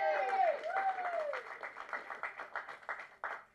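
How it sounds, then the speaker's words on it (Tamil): An audience applauds at a Tamil film's audio launch event. Steady clapping builds into a rhythmic pattern under whistle-like tones and some voices. "தயவு செஞ்சு நீங்களே ஒரு தடவை கைத்தட்டிடுங்க"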